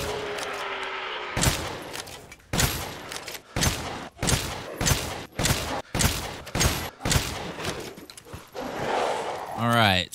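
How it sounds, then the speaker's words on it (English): Fully upgraded W870 TAC shotgun blasts against a large lichen in Resident Evil Village, about nine loud booming shots fired at a steady, slightly uneven pace, each with a short ringing tail, plus creature noises at the end. "now let's test the W870 TAC with full parts and upgrades against a large lichen"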